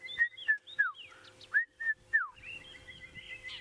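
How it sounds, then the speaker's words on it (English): A red-chested cuckoo calls during a sunset safari drive in the African bush: a clear, repeated whistled phrase of descending notes, fairly close and alone, followed by softer bird chatter. "And I can hear a red-chested cuckoo going."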